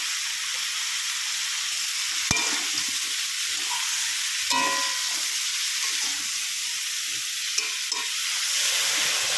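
Vegetables (stalks, pumpkin and lentil dumplings with jackfruit seeds) frying in a pan, with a steady close sizzle and scattered scraping stirs and clicks of a utensil throughout.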